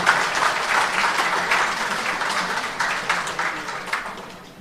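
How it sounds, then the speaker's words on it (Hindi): An audience at a Hindi Bhagavat Katha discourse claps loudly and steadily, a dense, sustained round of applause filling the hall without a break. "अरे जरा जोरदार ताली बजाइए"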